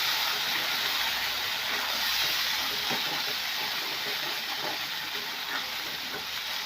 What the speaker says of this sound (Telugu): ఒక్కసారి అయితే కలుపుకొని మసాలా అంతా చక్కగా వేగేంత వరకు అయితే ఫ్రై చేసుకుంటాం.